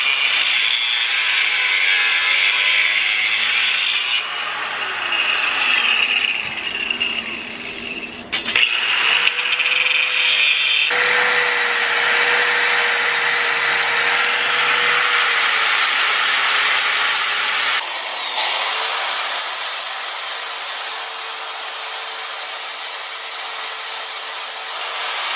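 Metal on a Honda Shadow motorcycle frame is cut with a power tool, producing a loud, sustained, whining grind that changes pitch as the cut proceeds and runs continuously without talk.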